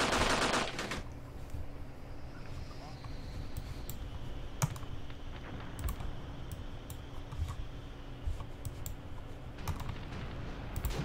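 Soldiers fire in Graviteam Tactics during the Soviet invasion of Afghanistan: scattered, crackling gunshots and short bursts sound at a distance over a low, steady background, with no talking.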